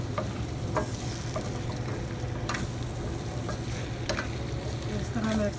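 Pieces of taro (arbi) are stirred into a sizzling masala in a frying pan, with a steady hiss of frying under scraping spoon strokes that repeat close by.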